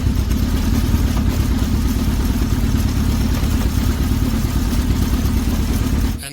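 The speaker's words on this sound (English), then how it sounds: "we start this beast of a motorcycle, shift into first gear, and lubricate the chain before lowering it from the stand" A Yamaha YZF 1000 sport motorcycle engine running on its stand, a loud, steady rapid-pulsing idle with mechanical clatter that holds evenly throughout before cutting off abruptly at the very end.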